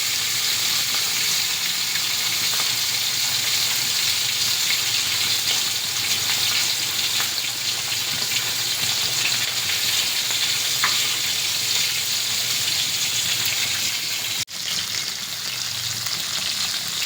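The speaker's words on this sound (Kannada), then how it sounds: "ಈ ಹಾಗೆ ಒಂದು ಅದು ಫಿಶ್ ಚಲೋ ಎಲ್ಲ ಮಸಾಲ ಹಚ್ಚಿದ್ದು ರವೆ ಹಚ್ಚಿ ಈ ಥರ ಎಣ್ಣೆ ಬಿಡಬೇಕು." Fish coated in masala and semolina fries in hot oil with a loud, dense, continuous sizzle that stays close and steady throughout, broken only by one brief dip near the end.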